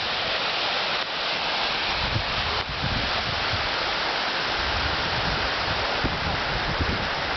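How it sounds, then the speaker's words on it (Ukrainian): Steady broadband rush of a mountain waterfall in the Menchul area, a continuous loud roar of falling water with no pauses, close by and filling the whole clip. "Напевно, називається Меншівський водоспад."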